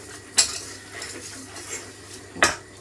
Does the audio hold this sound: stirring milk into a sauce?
yes